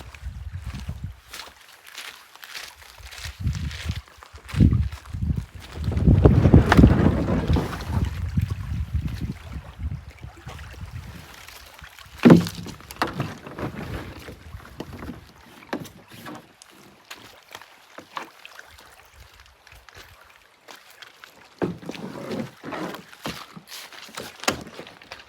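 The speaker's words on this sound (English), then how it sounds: "I'm gonna jump in the boat and head out" Canoe paddle strokes splashing and dripping in lake water, irregular and close, with a few louder splashes and thumps against the hull; no talking.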